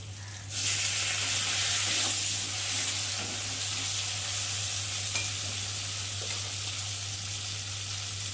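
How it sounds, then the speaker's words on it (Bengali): A spice paste of cumin paste, ginger paste, turmeric, chili powder and tomato being fried and stirred in a pan for a prawn and pointed gourd dish, sizzling steadily and loud near the mic, with soft scraping strokes and a low steady hum underneath. "জিরে বাটা, আদা বাটা দিয়ে মশলাটা ভালোভাবে কষিয়ে নেব।"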